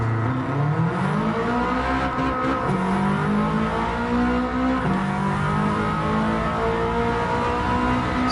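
Race car engine in Gran Turismo 7 on the Nürburgring, loud and close, revving up through the gears with rising pitch and a drop at each shift, continuous throughout.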